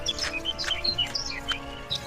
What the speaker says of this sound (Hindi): चिड़िया के चहकने की आवाज सुनाई देती है।